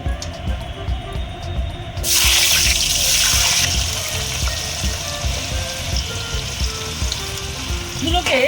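Potato pieces drop into leftover fish-frying oil in a pan and erupt into a loud, sustained sizzle that continues steadily near the mic, with a faint background hum before it.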